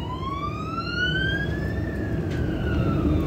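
Ambulance siren heard from a city bus, a rising wail with a steady low rumble of traffic and engine beneath it.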